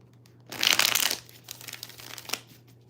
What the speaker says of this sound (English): A couple more shuffles here before we get started.